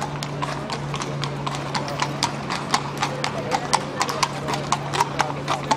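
Horse hooves clip-clop on a street in Spain in a steady, fairly close rhythm of repeated sharp strikes, with faint voices in the background.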